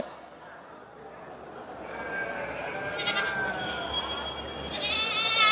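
Goats bleat repeatedly at the Ranipettai livestock market, several high, wavering calls rising near the end over a busy crowd murmur, with people talking nearby.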